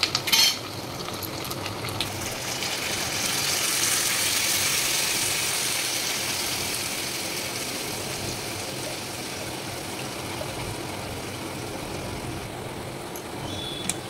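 Marinated green chicken dropped into a hot pan with curry leaves, then stirred: a loud, continuous hissing sizzle with occasional scraping of a utensil against the pan, close by and with no voices.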